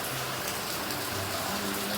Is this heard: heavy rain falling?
yes